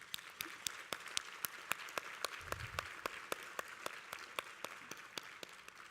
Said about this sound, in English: So I'd just like to give our staff a round of applause.